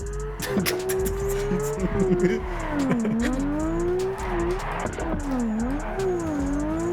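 In the racing game Torque Drift 2, played with a steering wheel, a car drifts with a steady engine drone that rises and falls as it revs. Tires squeal throughout, and the sound is continuous and close.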